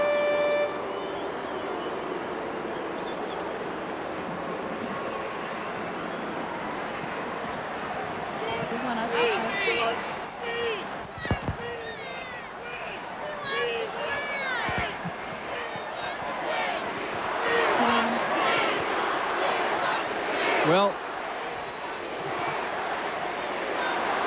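A huge crowd at the 1991 Minnesota Twins World Series championship celebration keeps up a steady roar of cheering and shouting for the whole stretch. It swells in places, and an announcer's amplified voice carries over it.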